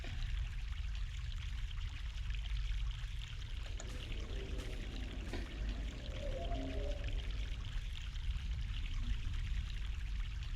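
Steady mountain stream water in the adventure game The Longest Journey, a constant rushing flow with trickling detail, even and continuous throughout.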